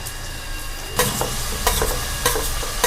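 Tomatoes drop into a hot frying pan of oil, setting off a sizzle. Several sharp stirring clatters follow over a continuous frying hiss, close and fairly loud.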